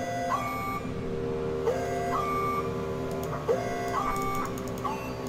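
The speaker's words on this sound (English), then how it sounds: "Alarm." In the video game Please, Don't Touch Anything, a synthetic electronic alarm sounds as a repeating pattern of rising beeps over a steady mechanical hum, loud and continuous throughout.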